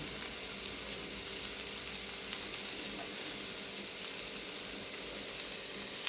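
Ivy gourd and curry leaves stir-fried together in a pan Kerala style, a faint, even sizzle and hiss holding steady throughout with no break.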